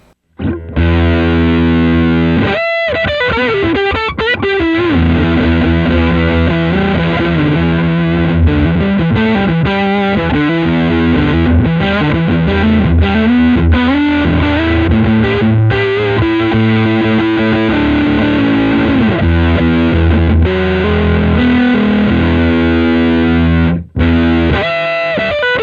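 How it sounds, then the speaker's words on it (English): Electric guitar on a humbucker pickup driven through a 2G308 germanium Fuzz Face pedal with fuzz turned all the way up, playing a loud, thick, continuous stream of distorted chords and notes with long sustain and no talking. "So it's a really great sound of fuzz turned all the way"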